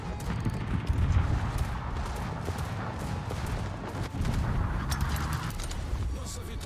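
Warship guns firing in World of Warships, a naval battle game: repeated booming shots and blasts thudding over rumbling background noise, with someone talking excitedly over the action.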